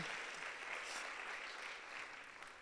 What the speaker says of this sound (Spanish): ¿Alguien le puede aplaudir a Dios esta noche?